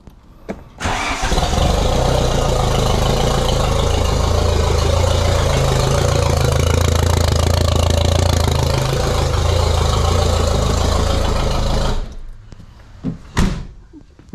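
Nissan Pulsar N13 turbo engine cranks and fires, running loud and rough for about eleven seconds at close range before cutting off, followed by a couple of knocks like a door or hood.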